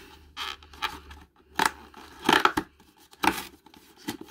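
Crinkly tearing and rustling of tea packaging from an advent calendar, in several short bursts with brief pauses between them, close and moderately loud, with no talk.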